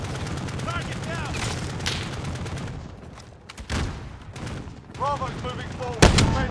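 Gunfire rattles through a battle in Call of Duty Modern Warfare Warzone, with rapid automatic bursts and sharp single shots, near and loud, under a constant battlefield din and with brief whistling, radio-like voice fragments in between.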